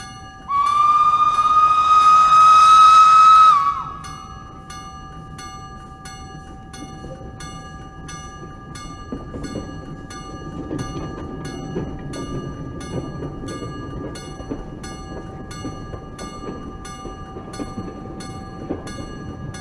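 A steam whistle blows from the ØSJS 2 'Kjøge' locomotive on the line to Bandholm, a loud, steady tone lasting about three seconds, followed by the low rumble and rhythmic clatter of the train passing.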